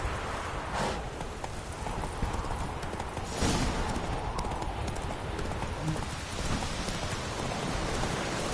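Hooves of the horse Roach beat a quick galloping rhythm through steady rainfall in The Witcher, with a brief splashy burst partway through and a continuous hiss of rain underneath.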